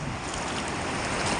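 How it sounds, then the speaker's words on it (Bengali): Sea surf at Digha beach washes steadily onto the sand, a continuous close, fairly loud broadband rush with no voices. "এই যে দেখো সমুদ্রের জলটা কি সুন্দর আসছে, আর ঠিক পায়ে ধাক্কা খাচ্ছে"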